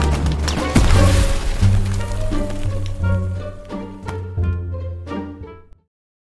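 A grenade goes off in the World War II shooter Hell Let Loose, a loud blast early on followed by rumbling battle noise and scattered impacts that fade out.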